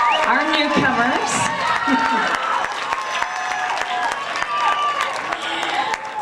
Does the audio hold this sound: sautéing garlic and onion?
no